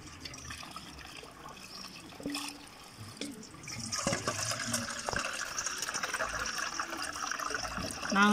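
Washing water is poured out of a vessel in a kitchen while dishes are being cleaned, quiet trickles at first and then a louder, continuous splashing gush that lasts to the end.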